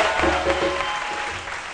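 A midday television studio audience applauds, a brief burst of steady clapping at moderate volume that fills the whole moment.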